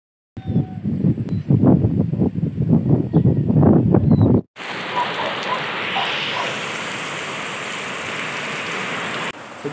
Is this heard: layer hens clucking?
no